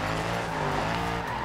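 German car engine roaring with tires squealing in the Forza Horizon 2 racing game, a loud continuous drive with no talk over it.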